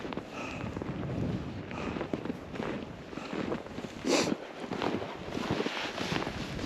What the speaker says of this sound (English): There's a little bit of a wind.